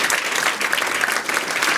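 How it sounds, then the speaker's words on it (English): Audience applause at an educator's session on inclusive teaching, a dense, steady patter of many hands clapping together at close range, sustained evenly without a break and with no voices over it. "Round of applause, everyone."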